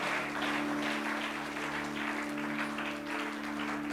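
Church congregation applauding during a Christian worship service: sustained, dense clapping from a crowd over a steady low hum, continuous and fairly loud, with no clear voices.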